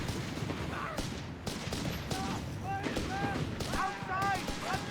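Panzer tank guns and other battle gunfire in the strategy game Company of Heroes 3, with repeated sharp booms and crackling shots over a dense, continuous din of combat while a commentator talks.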